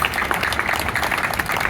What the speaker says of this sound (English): Now that's worth giving that a round of applause.